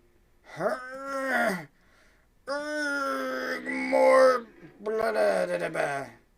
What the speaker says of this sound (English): More disgruntled effort noises, panting.